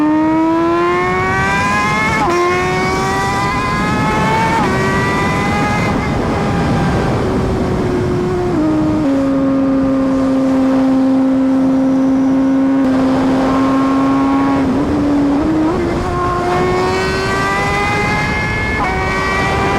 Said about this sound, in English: Cold start with the Aero and the Augusta titanium slip-on exhaust